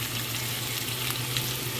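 Tomatoes sizzle and fry in a hot pan. The sizzling is steady and continuous, with a low hum underneath and no talking.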